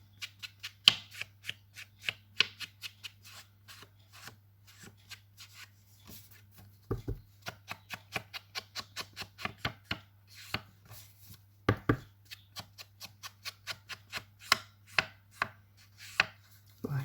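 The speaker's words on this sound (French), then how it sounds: "J'encre mon papier de fond." Ink is dabbed onto background paper for a handmade card, producing a long series of short, crisp taps and brushing dabs in an uneven rhythm. The sounds are close and quiet, with brief pauses between bursts.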